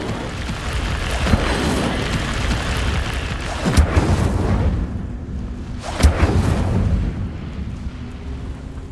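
Incendio fire spells cast in Hogwarts Legacy erupt in heavy whooshing blasts, with sharp bursts near the start, middle and later on over a continuous roaring, rumbling bed that fades toward the end.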